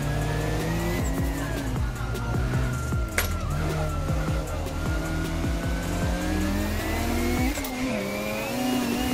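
A Mazda RX-7 FD3S in Assetto Corsa on a mountain touge run, its engine revving hard through rising and falling gear pulls, with tire squeal and skidding woven in, loud and continuous.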